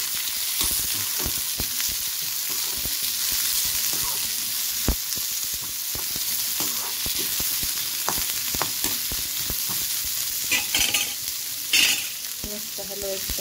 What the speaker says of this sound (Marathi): मस्त हलवायचं चांगलं